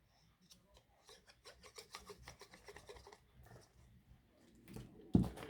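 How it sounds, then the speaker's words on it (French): A pet dog shakes itself nearby during paper crafting, a rapid rustling, flapping burst of fur and collar movement lasting several seconds, ending in a louder sharp clatter. "Hein, Oli se secoue, je suis désolée pour le bruit"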